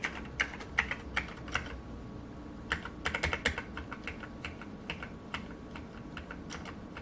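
Keys pressed on a Rosewill RK-6000 keyboard with one faulty, non-clicking key, giving irregular bursts of close, crisp clicks and clacks over a faint background hiss, with no talking.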